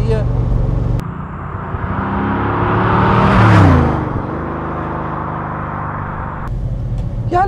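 A 1972 De Tomaso Pantera with a 5.8-litre V8 of 350 hp drives along a road, its engine droning steadily, swelling to a louder pass near the middle and then settling back to an even rumble.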